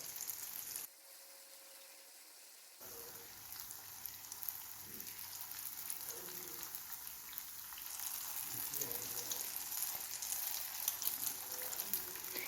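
Neyyappam batter frying in oil over a medium flame starts after a short silent gap. It then becomes a gentle, steady crackling sizzle with scattered soft pops, growing slightly louder toward the end.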